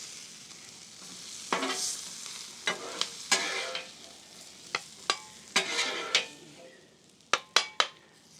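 Garlic bread and onions on a griddle sizzle softly while a utensil scrapes and taps the surface in sharp, irregular clicks, growing busier toward the end.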